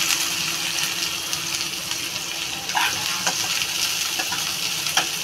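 Chopped onion sizzles and fries steadily in a hot pan for a bread roll filling, a loud continuous crackle with occasional stirring clicks and scrapes.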